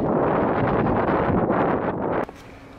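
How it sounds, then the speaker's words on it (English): Outdoor wind rushes and buffets the microphone beside a car while moving into a college apartment, a steady loud gusting that cuts off abruptly near the end, followed by quiet. "Sorry, it was very windy,"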